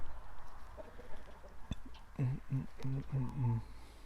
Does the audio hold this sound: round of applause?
no